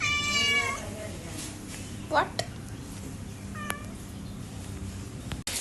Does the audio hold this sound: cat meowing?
yes